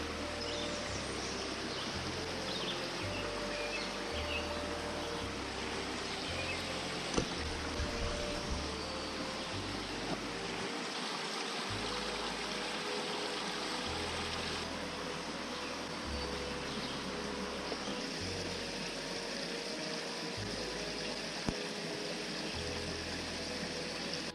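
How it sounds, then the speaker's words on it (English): A small, tranquil creek along the Manistee River trail flows in a steady, close, unbroken wash of water with no voices over it. "Very tranquil little stream."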